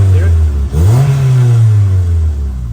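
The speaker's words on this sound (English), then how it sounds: "This is a 3-inch exhaust that we built for this car." A loud, deep 3-inch car exhaust with an inline resonator and twin loop muffler revs up and settles into a steady low drone, close and powerful.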